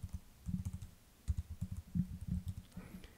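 A task name being typed on a computer keyboard, bursts of quick, close key clicks in irregular clusters with short pauses between them.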